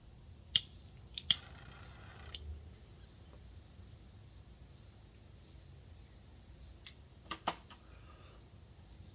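A Sin Compromiso cigar has its cap cut, giving a few sharp, quiet snips close by in an otherwise hushed room, with two clustered near the start and more near the end.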